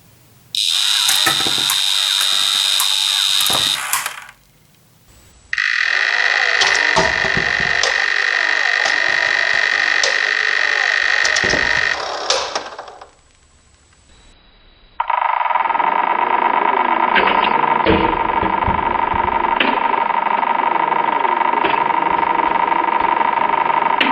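A M.A.S.K. Laser Command toy laser emits a loud, steady electronic whine in three long bursts, each lower in pitch than the last, over a buzzing motor hum.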